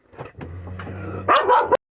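Dogs barking indoors, a few low woofs spaced apart and then a sharper, louder burst of barking near the end that cuts off abruptly.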